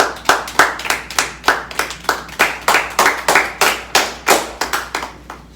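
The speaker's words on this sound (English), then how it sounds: "I'm clapping again" A single person claps their hands in a steady, fairly quick rhythm, about fifteen sharp claps close by, each one crisp and clearly separated, with no other sound between them.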